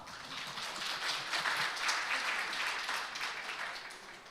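A forum audience on creating rural added value gives warm applause to welcome moderator Lee Seon-cheol, head of Gamjakkot Studio. The clapping is moderate and steady, fairly distant, with no talking over it.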